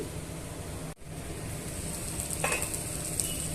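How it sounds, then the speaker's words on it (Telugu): An eggplant and peanut curry is stirred in a pan on the stove, with a low continuous sizzle, a brief scrape of the spoon and a faint clink near the end, close and quiet with no talk. "ఇలా అన్నీ మిక్స్ చేసుకొని మూత పెట్టుకొని ఒక రెండు నిమిషాలు మగ్గించుకోవాలి"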